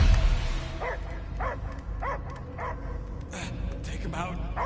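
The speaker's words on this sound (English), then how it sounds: "I hear only barking." A dog in the Guardians of the Galaxy video game barks in a regular series of sharp yips over a rumbling game soundtrack.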